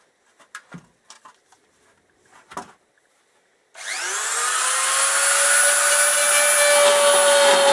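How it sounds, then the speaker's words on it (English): A small Dremel rotary tool fitted with a cone bit grinds to enlarge a hole in a metal bracket during motorcycle front-end reassembly. A few faint handling clicks come first, then the motor spins up into a steady, loud, high whine. "to make the hole, again I'm using the small Dremel. I've actually got a small little cone bit"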